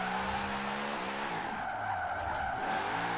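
A Lamborghini built for point drifting in Forza Horizon 4 slides with a steady, loud tire squeal over a continuous engine drone, sustained throughout with no talk.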